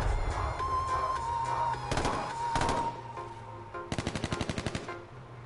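Gunfire from an AK rifle in the video game H1Z1 rings out in sharp single shots and then a rapid rattling burst of about ten rounds over a constant game background.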